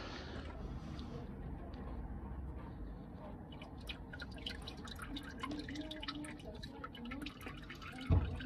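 Engine oil dripping from a removed oil filter on a Ford Escort Mk3 during a service, soft repeated drips over a low background hum, close by, ending with a brief louder knock.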